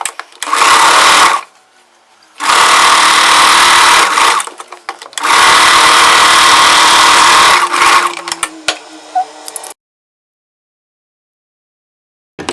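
A sewing machine runs in three loud bursts stitching layered frills on a churidar bottom, with short quiet pauses between runs and silence at the end.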